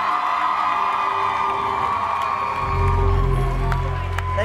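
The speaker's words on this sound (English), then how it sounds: "A big round of applause." Audience at a winter cosplay championship cheering and whooping, the crowd noise swelling louder partway through as applause builds beneath it.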